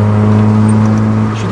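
A Peugeot 106 S16 drives through a tunnel on a mountain road near Osaka, its engine droning loudly and steadily with strong low harmonics, a constant close-up in-cabin hum that eases slightly at the end.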